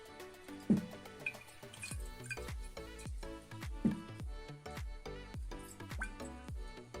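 Liquid poured out of a vessel during a silver-chemistry procedure, after silver nitrate is made and before silver chloride is precipitated. Close dripping and splashing comes in bursts with sharp drops, with no talk.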